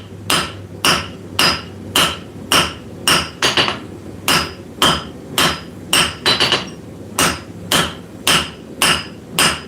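Hammer blows forging a taper on hot steel at a workshop anvil, a steady rhythm of sharp, loud ringing strikes about one per half second, with a brief quick flurry midway and no voices.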